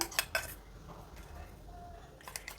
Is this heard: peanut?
yes